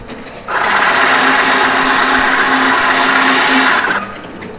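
A wood lathe cuts a sawdust slot into a spinning wooden spin top: a loud, steady high whine with a buzzing edge begins abruptly, holds for about three and a half seconds, then stops.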